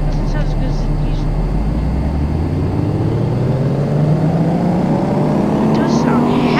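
Simulated Ford F-350 Super Duty truck engine on a dyno in Car Mechanic Simulator 2018, a loud droning roar rising steadily in pitch as it revs up, filling the whole stretch.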